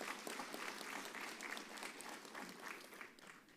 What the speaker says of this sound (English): Another big round of applause, please, for the Prof.